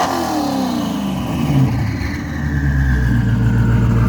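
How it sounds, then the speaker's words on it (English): Race car engine freshly tuned on a MoTeC system revving up close, a loud, rising and falling roar with harmonic sweeps over about four seconds. "Give us a couple revs."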